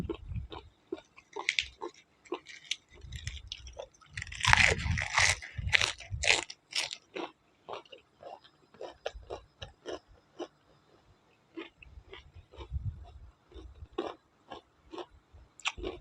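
Crunchy jellyfish eaten with seafood dipping sauce, close-up biting and chewing making rapid, irregular crisp crunches in bursts with short pauses between.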